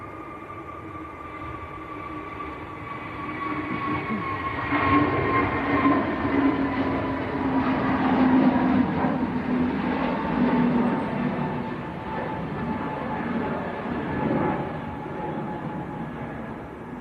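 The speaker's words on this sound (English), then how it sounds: "Here comes the very nice Egypt Air A321neo to Cairo" An Egypt Air Airbus A321neo passes at Manchester Airport, its broad jet roar swelling to a peak mid-pass and then easing off, steady and fairly close, with no voices.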